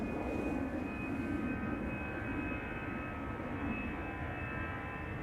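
A KLM passenger jet at an airport gives a steady, fairly loud engine roar with a thin high whine running throughout, no voices present.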